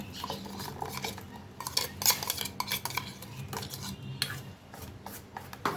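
Potato paste being stirred into flour batter for a breakfast dish, giving steady wet scraping and clinking of a spoon against a bowl, close up and continuous with no talk.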